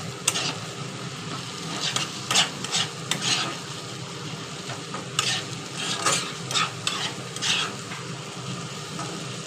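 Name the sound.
alur dom masala being fried and stirred in oil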